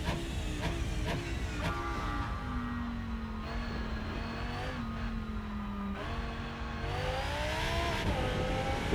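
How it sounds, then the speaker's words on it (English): Race car engine in the simulator game Rennsport drops through downshifts, with sharp blips and a falling whine as the revs step down toward first gear, steady and clear without talk. "So we're going to go down to 1st gear."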